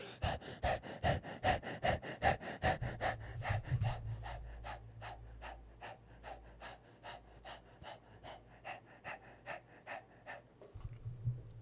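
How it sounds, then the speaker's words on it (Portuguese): Breath of fire meditation practice: fast, rhythmic breathing, each sharp exhalation a distinct puff, heavy and forceful at first, then lighter and steadier for the rest, with a low hum underneath. "Essa é a respiração do fogo."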